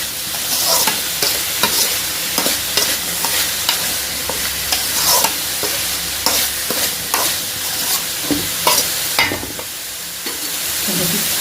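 Pumpkin masala frying in a pan, with loud, close, continuous sizzling broken by regular scraping strokes of a spoon stirring the mixture.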